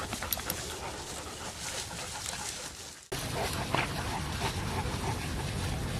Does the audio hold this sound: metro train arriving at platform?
no